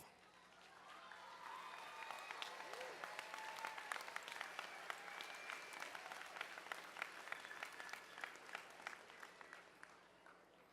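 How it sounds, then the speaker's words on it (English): A crowd at a grades 5 and 6 tech challenge awards ceremony claps for the third place best overall team, sustained dense applause from many people with crisp individual claps popping out, holding steady for the whole stretch. "one more round of applause for your third place best overall team"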